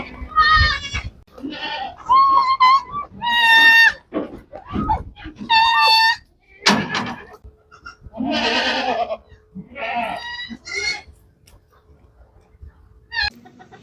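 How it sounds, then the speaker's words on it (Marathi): Mother goats bleat repeatedly for their kids, loud and close, several overlapping wavering cries in quick succession with short pauses between them. "शेळ्या बघा कशा वाट बघत आहेत पिल्ल्यांची"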